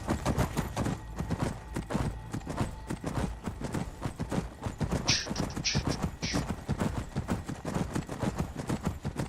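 Horse hooves clip-clop steadily in a modded Skyrim game, a brisk, continuous walking rhythm, close and moderately loud, with a few faint higher clinks partway through.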